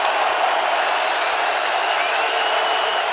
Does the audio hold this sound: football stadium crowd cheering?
yes